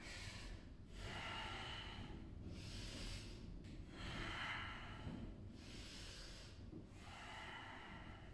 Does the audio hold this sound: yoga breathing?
yes